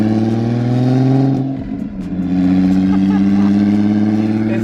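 A BMW E92 M3 engine runs with a loud, deep, steady drone that dips briefly, then swells back up, heard close with some talk.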